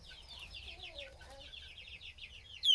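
Five-week-old Exchequer Leghorn chicks give a quick series of soft, high peeping chirps and clucks, close by and continuous, ending in a brief louder squawk.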